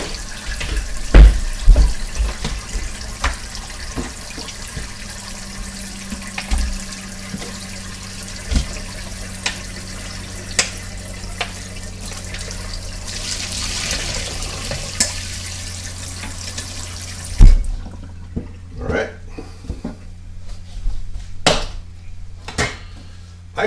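A kitchen tap runs steadily for most of the stretch with a broad wash of flowing water, then cuts off abruptly, leaving a few clinks of dishes and cutlery in a quieter room.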